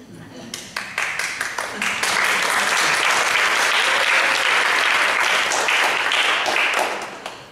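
A concert audience at a young artist showcase breaks into applause, starting with a few scattered claps that quickly swell into dense, sustained clapping from many hands, then tapering slightly near the end.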